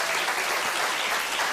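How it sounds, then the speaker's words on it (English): A gallery audience at an art prize event claps, a dense close burst of applause filling the moment without a break. "I take that as applause as meaning I made a good choice."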